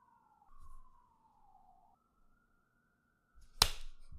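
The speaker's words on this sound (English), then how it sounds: "Holding for sirens." A siren passes outside in New York City, a faint, distant wailing tone that slowly glides in pitch, broken by a sharp click near the end.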